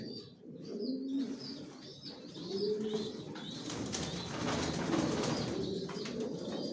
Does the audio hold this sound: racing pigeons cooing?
yes